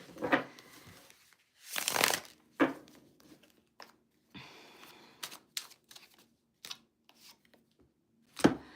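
Playing cards shuffled for a card reading, sounding as several short riffling and snapping bursts with quiet gaps between, close and fairly soft, with no talking.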